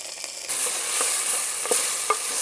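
Turmeric and spices with onion and ginger-garlic paste sautéing in a pan for crab, a loud close hiss of frying with a few light stirring scrapes.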